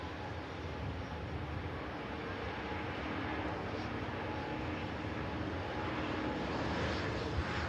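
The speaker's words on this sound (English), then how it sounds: "Virgin Atlantic, Airbus A350 rolling" A Virgin Atlantic Airbus A350 rolls for takeoff at Manchester Airport, its jet engines a broad, steady roar heard from a distance and building slightly over several seconds.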